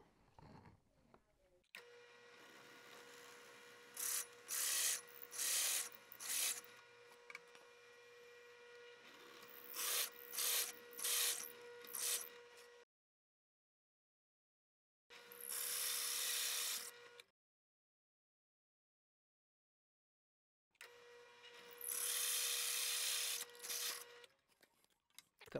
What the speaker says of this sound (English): I'm going to drill partially through the top hole, then I'm going to flip it over